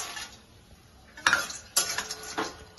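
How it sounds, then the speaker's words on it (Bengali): Makhana (fox nuts) stirred in ghee in a kadai over a low flame, with a faint steady sizzle under a few sharp scraping clanks of a spatula against the pan, close by and with no talk. "কড়াইতে একটু ঘি দিলাম। এবার মাখানাটাকে ভেজে নিব।"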